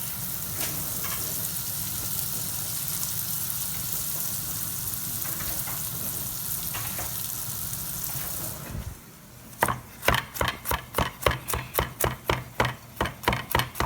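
Butter sizzles steadily in a hot wok for sautéed bok choy, a continuous frying hiss that drops away near the end and gives way to a run of sharp rhythmic clacks, likely chopping.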